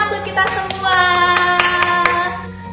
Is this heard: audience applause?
yes